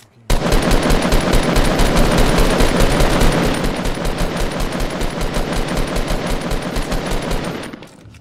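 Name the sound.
gunfire in a video game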